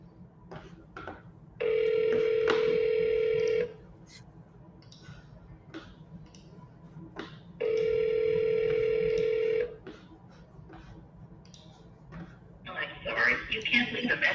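A phone call rings out on speakerphone, two long ringback tones separated by quiet background shuffling, followed by a brief burst of a recorded voice at the end.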